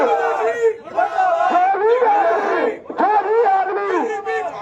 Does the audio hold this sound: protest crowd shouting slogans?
yes